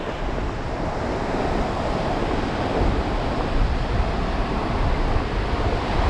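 Ocean surf rolls in and pulls back along a beach during evening surf fishing, a steady, loud wash of breaking waves with wind rumbling across the microphone and no pauses throughout.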